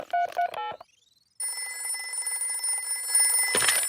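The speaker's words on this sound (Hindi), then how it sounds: "सुनिए, हम दादा और दादी को फोन करते हैं।" Cartoon telephone dialing: a quick run of keypad tones, then a brief rising tone and a sustained ringing tone that ends in a rustling burst, clear and close with no talking.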